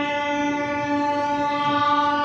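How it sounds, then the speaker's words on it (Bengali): The Amaravati Express sounds a long, steady horn blast as it departs, loud and close, held for a couple of seconds. "ট্রেন ছেড়ে দিয়েছে"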